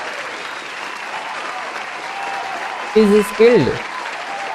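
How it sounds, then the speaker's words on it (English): A classroom claps for a student in a soft, steady patter, and a voice speaks briefly near the end. "We should actually clap for it."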